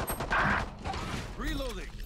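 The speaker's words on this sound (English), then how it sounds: "Reloading." Weapon reload in the tactical shooter Valorant: quick mechanical clicks and a ratcheting clack, close and moderately loud over game ambience, with a brief voice under it.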